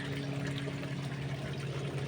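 A small waterfall flows in the morning, a steady, moderately loud rushing hiss with a faint low hum beneath it and no voices.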